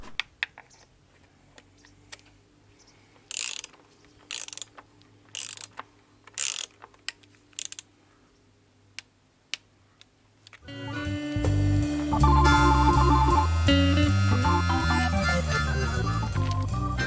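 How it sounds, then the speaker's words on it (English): Ratchet wrench clicks in several short bursts while torquing inlet manifold bolts on a Jaguar X-Type 2.0 diesel, followed by loud, dense music. "So it's just a question of torquing everything up now."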